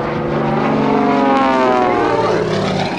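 Aerobatic airplanes roar past at an airshow at an Air National Guard open house in Rhode Island, a loud sustained engine drone that swells and shifts in pitch as they pass, with no talking.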